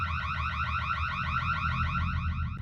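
An electronic alarm in a house, set off by gunfire, rings in a fast, steady warbling pulse, loud and continuous throughout with no voices.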